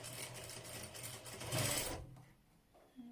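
A sewing machine topstitches the ruffled hem of a baby dress in a short, close run that swells briefly before stopping. Quiet handling noise follows.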